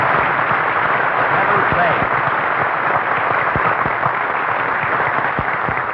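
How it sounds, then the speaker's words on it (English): Studio audience applause on a vintage comedy radio broadcast, The Jack Benny Show, a broad wash of clapping with distinct hand claps, heard while someone speaks a few words over it. "Applause."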